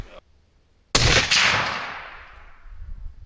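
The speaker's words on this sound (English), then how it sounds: "now we start really shooting" A rifle fires while being sighted in outdoors on a beaver trapping outing. One sharp, loud, close report cracks out and then rolls off into a long decaying echo, with a faint brief voice just before it.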